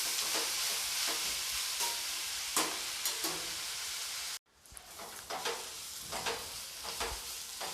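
Onions frying and being stirred in a pan, a continuous close sizzle broken by scraping stirs, with a brief cut to silence midway before the sizzling and stirring resume.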